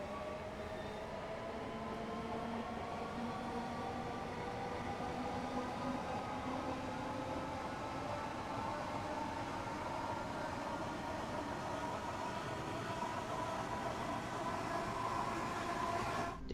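A Class 465 electric multiple-unit train running toward Dartford in the Train Sim World 4 game: a steady, continuous rumble and motor hum with slowly rising tones, constant in loudness for the whole stretch, with no speech.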